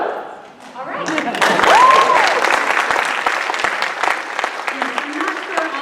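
Concert audience at a high school fall concert bursts into loud, sustained applause that swells after a quiet start and holds steady, with a few voices mixed into the clapping.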